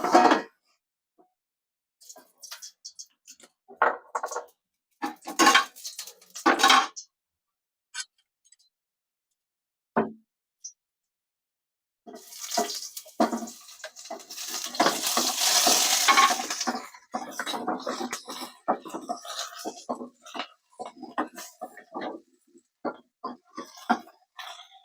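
Chopped onion and tomato are sautéed in a hot frying pan, giving scattered stirring clicks and scrapes, then a louder sizzle that flares up when the food hits the oil and continues through stirring, with no talk.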